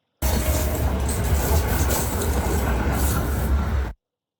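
A train ride plays as a steady, loud rumbling roar of rolling wagons with faint rattling on top, continuous from start to finish before cutting off abruptly.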